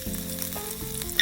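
Vegetables and onions sizzle and fry in avocado oil in a pan preheated on medium-high heat, a steady close crackle with faint stirring sounds throughout.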